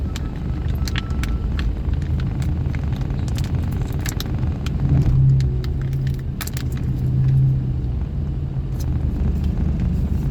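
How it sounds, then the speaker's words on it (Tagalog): Heavy road traffic at about 5 a.m. in the Philippines, heard from inside a vehicle as a loud, continuous engine rumble with passing cars and occasional rattles and jangling. "Napakatindi na ng traffic."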